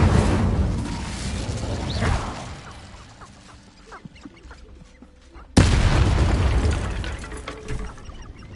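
An Incendio fire spell in Hogwarts Legacy goes off as a loud booming blast that fades to a quieter, crackling stretch with small clicks. A second sudden, powerful burst of fire then roars up and holds loud to the end.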